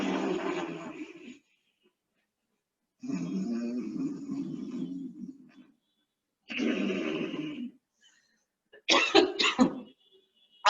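Ujjayi pranayama breathing through a deliberately constricted throat, heard as three long, raspy breaths separated by silent pauses, followed by a brief harsh cough-like burst near the end.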